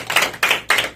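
Hands clap in three quick swelling bursts at a church Sunday school gathering, fairly close and loud, with no talk over them.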